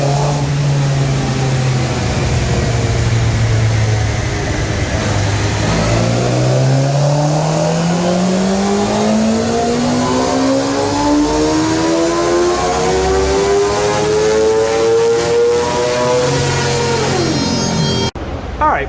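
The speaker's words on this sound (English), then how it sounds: "Here we go, baseline pull on this GSXR 600. Listen how quiet the little guy is." A stock Suzuki GSXR 600 motorcycle on a dyno makes a steady, loud engine note through a full pull, the pitch climbing smoothly from low idle to a high rev before a brief drop at the end.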